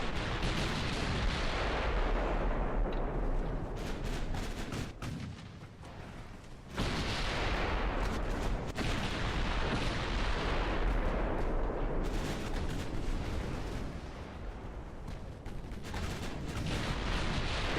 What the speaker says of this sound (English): These 14-inch guns are doing a pretty good job of countering this guy, too.